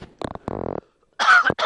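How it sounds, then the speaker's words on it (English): A person coughs several times in short bursts, close and fairly loud, with harsh throaty rasps separated by brief silences. "that was another cough"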